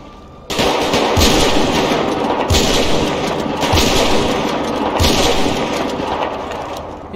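Gunfire in the video game GTA 5, loud rapid bursts of shots with sharp booming reports recurring every second or so over a continuous roar of battle noise, no talking.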